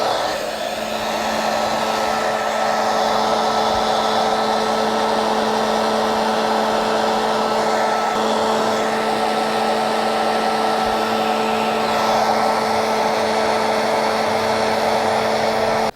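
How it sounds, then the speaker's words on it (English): A heat gun blows hard and steadily for the whole stretch, shrinking the rolled edges of a leg piece, with a loud, continuous whooshing roar and a fixed motor hum and no speech. "And with our heat gun, we're going to shrink the edges."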